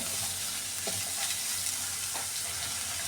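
Onions sauté with salt in a hot pan, giving a steady, close hiss and crackle of frying with a couple of soft stirring scrapes.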